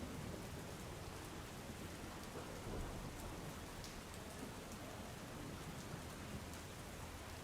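Heavy monsoon downpour with thunder over a flooded state highway in rural Surat, a dense steady hiss of rain falling nonstop with a low rumble of thunder rolling underneath throughout.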